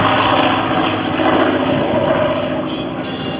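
A propeller aerobatic airplane at an aerobatics world championship air show in Châteauroux gives a loud, steady engine and propeller drone that holds close and constant for the whole stretch, with no voices over it.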